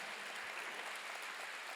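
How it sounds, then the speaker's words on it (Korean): A church congregation claps through a sermon, producing a short, steady burst of applause that is fairly faint and recorded from a distance, with no voices rising above it. "박수 하세요."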